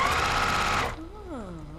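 A sewing machine runs fast and steady, stitching a quilt block up close, then stops abruptly, and a voice starts speaking right after.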